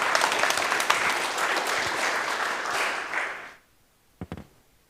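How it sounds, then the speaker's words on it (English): Audience applause after a talk at a meetup, a steady round of clapping that fades out quickly, followed by a few isolated taps. "Big applause"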